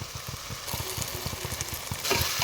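Prawn biryani masala being stirred in a pan, a steady sizzle with regular soft scraping strokes of the spoon repeating about every quarter second throughout.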